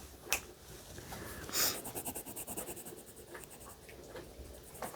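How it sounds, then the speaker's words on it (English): Coloured pencil shading a green layer on paper while drawing a holiday wreath, a soft continuous scratchy scrubbing with quick rhythmic strokes, close and steady throughout, no voices. "I'm going to continue putting in my second layer of green."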